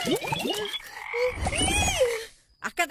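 A cartoon frog croaks in a rising, warbling series of loud, close calls, then goes quiet before a few short final croaks.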